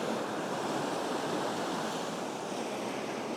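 Ocean surf washes steadily over rocks as the tide comes in, a continuous broad roar of breaking water with light wind noise and no voices.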